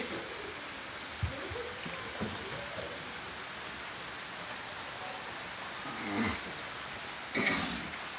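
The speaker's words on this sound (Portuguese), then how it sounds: "Fazer vídeo de chuva." Rain falls in the countryside as a steady, even hiss of drops, with brief faint voices and a couple of soft knocks and splashes standing out now and then.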